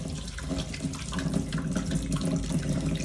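Tap water pours steadily into a sink while fish is being washed, a continuous close splashing rush with no voices.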